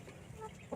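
Rhode Island Red chicken gives a single soft cluck toward the end of a brief, faint stretch of low background noise.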